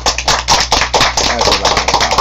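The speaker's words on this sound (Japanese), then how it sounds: "ではもう一度6名の方に拍手をお願いいたします" A small audience claps for six participants at the close of a Japanese session, a dense, steady patter of hands heard close and without talk.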